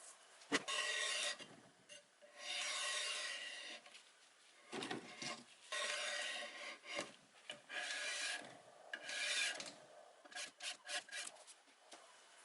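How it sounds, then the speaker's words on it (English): Hand sanding of wooden drawers from a 1940s bedroom set with 120 then 180 grit, a series of raspy rubbing strokes in irregular bursts, close and fairly quiet, with no talk. "I sanded the drawers with 120 and then with 180"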